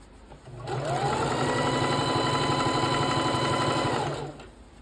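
A sewing machine runs in one continuous burst of rapid, even stitching on scrunchie fabric, spinning up, holding a steady close whir for about three seconds, then stopping.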